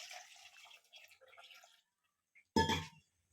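Water poured over washed country chicken, seasoned with salt and turmeric, in a cooking pot. A voice talks first, then a short, close splash follows alone.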